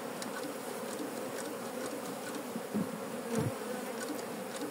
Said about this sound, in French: on entend quand même que les abeilles font pas mal de bruit